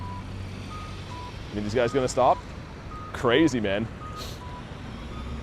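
Steady, evenly spaced electronic beeps from a crossing signal repeat throughout, with someone talking briefly over them and traffic noise behind.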